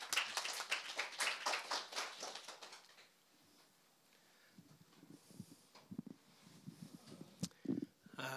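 Applause greets a speaker at a Jeju forum session, a few seconds of fairly close, brisk clapping that tapers off quickly, followed by quiet room noise and light shuffling sounds.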